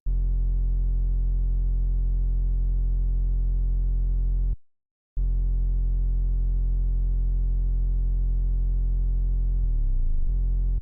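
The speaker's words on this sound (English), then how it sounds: "I added the sub bass with the 3x oscillator" A steady, deep sub bass tone from a 3x oscillator synth drones loudly, cuts out for a moment, then returns and bends downward in a short slide at the end.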